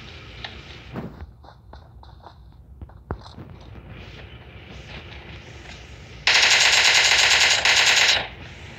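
Gunfire in the video game PUBG: scattered single shots and footsteps early on, then a loud sustained burst of rapid automatic fire near the end that cuts off abruptly.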